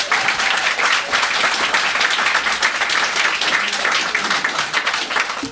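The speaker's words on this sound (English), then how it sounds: "Let's give them all a round of applause" A studio audience breaks into sustained, loud applause, dense steady clapping filling the whole stretch without letup.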